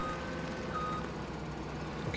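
Reversing beeps from a truck in the farming video game Farming Simulator 17 beep steadily over a constant engine drone, continuous and fairly loud.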